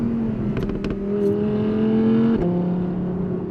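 Loud, close Audi R8 RWS V10 engine holding a steady high-pitched whine that drops suddenly in pitch partway through, no voices.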